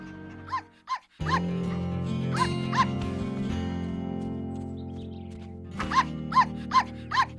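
Cartoon puppy barking in short sharp yips, a pair early on and a quicker run near the end, with soft whimpers between, all over steady background music.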